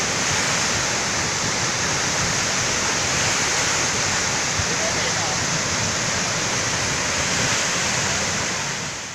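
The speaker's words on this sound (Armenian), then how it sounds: "Ջուրն ավելի ու ավելի սկսեց բարձրանալ ու դուրս գալ սելավատարից" Floodwater in Artik, Armenia, rushes over a spillway with a steady, loud roar, a dense unbroken wash of churning water that holds level throughout and drowns out any other sound.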